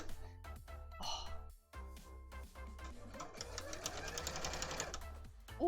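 A sewing machine stitches through a thick Garbodor cosplay, with short start-stop bursts of rapid mechanical chatter that end in a longer continuous run, heard close up and fairly quiet.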